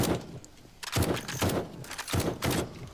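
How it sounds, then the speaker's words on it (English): Rapid machine gun fire in a zombie-fighting video game, coming in several loud, close bursts separated by short pauses. "I am loving the machine gun."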